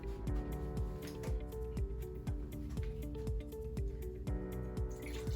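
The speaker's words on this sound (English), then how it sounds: "we'll want to put water in the vase first on this design" Water pours steadily into a vase for a spring floral centerpiece, with a run of bright dripping splashes and liquid trickles close by, fairly quiet and with no talking.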